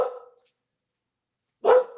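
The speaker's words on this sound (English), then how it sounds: "Who are you barking at, huh?" A dog barks at someone at the house door: one short close bark, a long silence, then a second sharp bark.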